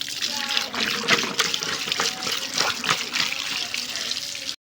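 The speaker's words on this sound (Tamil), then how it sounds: "கேரட்டை நல்லா சுத்தமாக தண்ணியில் கழுவிட்டு" Carrots being washed under a running kitchen tap: close, steady splashing and trickling water that runs unbroken, with the occasional brighter splash of vegetables handled in the stream.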